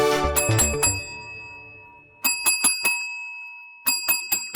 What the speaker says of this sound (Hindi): कौन घंटी को घंटा समझ के बजाई जा रहा है?